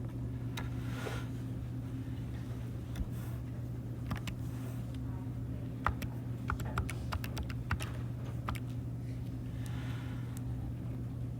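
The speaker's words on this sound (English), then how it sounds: "So type that in your calculator." Fingers tap out numbers on a calculator keypad: faint, quick clusters of clicks over a steady room hum, with no talking.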